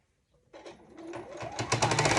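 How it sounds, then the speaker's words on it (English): A sewing machine stitches quilt binding close to the edge, starting from silence and quickly speeding up into a loud, rapid, even whirr of stitches, heard alone. "I try to sew as close to the edge as possible"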